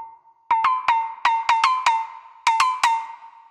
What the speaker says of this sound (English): I sort of imagine just some weird kind of metallic contraption that you can play with, but in a more alien-like form.